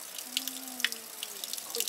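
Icy spring-fountain water is collected outdoors while traveling in Bulgaria, a soft running trickle with bright splashy drips at intervals and faint background tones.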